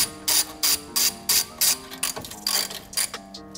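A ratchet loosening nuts on a BMW oil cooler, a close series of crisp clicking bursts in a steady back-and-forth rhythm, about a dozen strokes, alone without talk.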